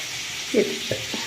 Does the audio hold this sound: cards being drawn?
no